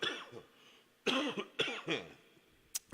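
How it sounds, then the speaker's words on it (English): A man coughs repeatedly at close range indoors, about five or six harsh bursts spread irregularly over a few seconds, with some throat noise between them and no speech. "Sorry about the cough-a-thon there."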